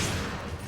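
Gunfire from a shooting video game with handgun ammo, a dense burst of shots packed into under a second at moderate level, with no talk over it.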